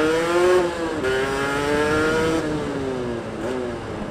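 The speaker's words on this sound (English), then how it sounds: "There's a bit of a splutter at mid RPM." A hire motorcycle engine fitted with a 34mm race carburettor runs rich at a steady mid-range rev with a rough, uneven splutter, close by, dipping and recovering a couple of times.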